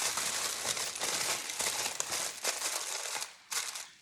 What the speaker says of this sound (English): And now you're just gonna wrap it with the foil.